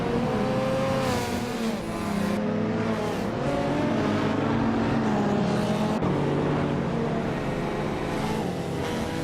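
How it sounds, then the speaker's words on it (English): A 1998 Shelby Series 1 sports car revving in a racing video game, its engine a steady, loud, droning tone that climbs and holds in pitch, with no voices. "Bot Shikamaru revving up in a 1998 Shelby Series 1"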